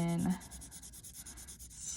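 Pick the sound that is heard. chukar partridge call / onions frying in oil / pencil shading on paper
pencil shading on paper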